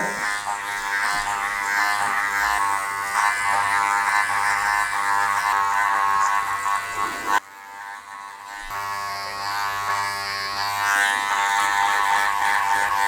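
Electric hair clippers buzzing steadily at close range during a side-part haircut pushed up and back on top, a continuous motor hum with a brief drop partway through before resuming.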